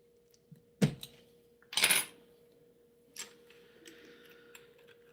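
Several keystrokes on a mechanical keyboard after its switches were swapped: a few sharp clacks, one heavier rattling press, then lighter scattered taps over a faint steady hum.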